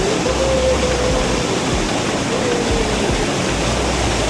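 Rushing water in a village river, a dense, continuous roar like a waterfall, loud and close, steady throughout with no talking.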